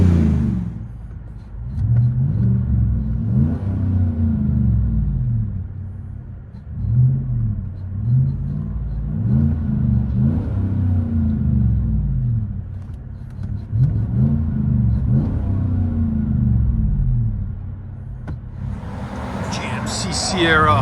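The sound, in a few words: 2016 GMC Sierra Denali 6.2L V8 revving with Borla Pro-XS muffler, inside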